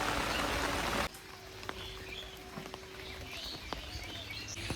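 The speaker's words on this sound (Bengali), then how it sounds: "দেখতে পাচ্ছ এদিকে পুরো বৃষ্টি হচ্ছে" Monsoon rain by the Jalangi and Padma rivers on the India–Bangladesh border, a loud dense patter for the first second, then softer steady drops pattering on an umbrella with faint bird chirps.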